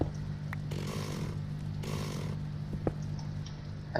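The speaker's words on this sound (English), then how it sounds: "That chainsaw's obnoxious." A video-game chainsaw revs in two loud bursts against a steady low motor drone, with faint clicks between them.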